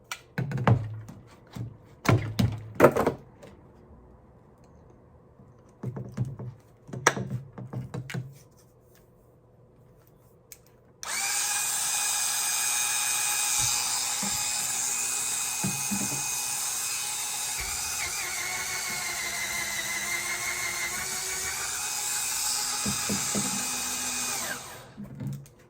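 An Amazon electric spin scrubber with a sponge head is used for bathtub cleaning. Scattered handling thumps come first, then the motor runs as a steady, high whine for about fourteen seconds before cutting off.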